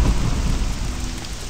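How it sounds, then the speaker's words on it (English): Steady rain pours with deep rumbling thunder in the video game Morrowind, a dense, loud wash of noise that holds evenly throughout with no voices over it. "Don't even notice when it started raining."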